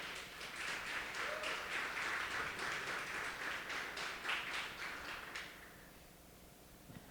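A church congregation applauds visiting guests, a dense wash of many hands clapping at moderate distance that runs steadily for several seconds, then fades out into quiet room tone.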